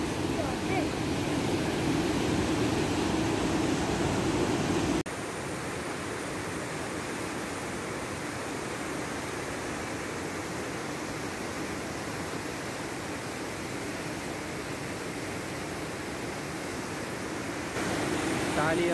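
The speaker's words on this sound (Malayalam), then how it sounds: "എല്ലാ ഷട്ടറും തുറന്നു വെച്ചിരിക്കുന്നു വെള്ളം നോക്ക്" Water surges through the fully opened shutters of the Oorkadavu (Kavanakkallu) regulator-cum-bridge, a dense, steady roar that holds unbroken throughout and grows slightly quieter after the first few seconds.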